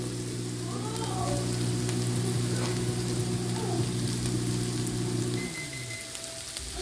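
Sliced garlic sizzles in a pan with mirepoix for shepherd's pie, a steady crackling fry with light stirring scrapes over a low hum, fading a little near the end.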